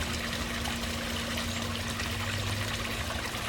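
A small garden pond waterfall trickles and splashes continuously, a steady close pour of water with a faint pump hum beneath and no voices.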